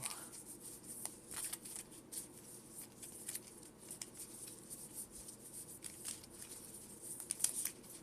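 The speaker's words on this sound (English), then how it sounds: "Each player shuffles their hand into their deck and draws 4." Pokemon trading cards being shuffled by hand during a practice match, soft riffling and rubbing of cards that is quiet and close, with a few brighter flicks near the end.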